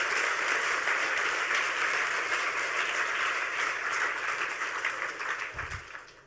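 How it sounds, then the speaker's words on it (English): Audience applause at a hacker conference talk fills the room, a dense steady wash of clapping alone that holds strong for several seconds, then thins and fades toward the end. "Round of applause for him, if you don't mind."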